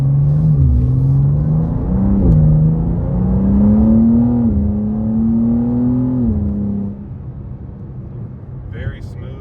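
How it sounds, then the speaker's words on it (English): BMW M2 (G87) accelerating in sport mode, engine note climbing with shift dips around two, four and six seconds, loud and close inside the cabin, then settling to a quieter cruise. "We're gonna pop it over into, we'll do sport mode."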